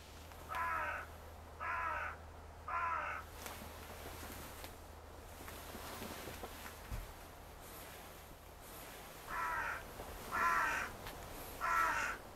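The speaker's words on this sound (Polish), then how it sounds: "Przyleciało więcej wron." Crows caw near a wildlife hide while feeding on carrion: one set of three harsh caws, a quiet gap with a low background hum, then three more caws, all fairly faint and distant.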